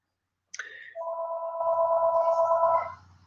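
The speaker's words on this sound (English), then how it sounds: "Phone, Wendy." A telephone rings indoors: a short chirp, then one steady electronic ring lasting about two seconds, close and fairly loud, with no talking over it.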